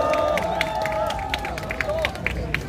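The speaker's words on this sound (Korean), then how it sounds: "원종삼 회장님께 다시 한번 큰 박수 부탁드리겠습니다" Crowd clapping at an outdoor political rally in honour of a veterans' association chairman, scattered and moderate, with overlapping voices and babble running through it.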